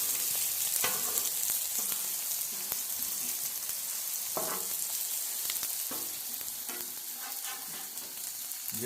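Bacon made from wild pork sizzles steadily on a hot griddle, a dense crackling hiss with occasional louder pops and scrapes, and no talk.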